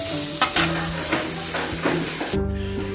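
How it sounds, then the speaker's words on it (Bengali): Oil sizzles steadily as soybean chunks fry in a pan, with a few stirring scrapes and clicks near the start and again toward the end. "সয়াবিনটাকে ভালো করে তেলে ভাজবো"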